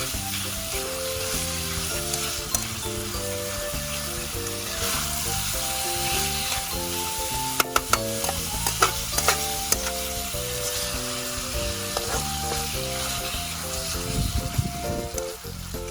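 Red curry paste and pork stir-fry in a pan for a northern Thai pickled bamboo shoot dish, a continuous dense sizzle with occasional utensil clicks beneath steady background music.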